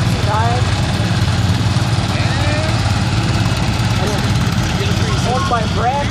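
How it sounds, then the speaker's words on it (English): A 1969 Sears Roebuck 10 horsepower garden tractor engine idles nearby with a steady low putter, while voices talk over it. "This is a real nice little Sears Roebuck 10 horsepower"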